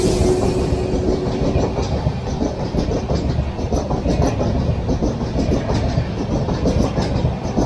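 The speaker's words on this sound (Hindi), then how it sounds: "ये सामने खड़ी हुई है अवध एक्सप्रेस" The Awadh Express standing at a railway station: a steady, dense rumble of rail noise with faint clicking, continuous and fairly loud throughout, with no clear voices.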